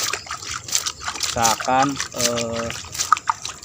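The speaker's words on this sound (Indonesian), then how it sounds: "jadi disiram-siram seperti ini ya" Water is poured and sprinkled over compost to wet it, trickling and splashing in short bursts close by while a person talks over it.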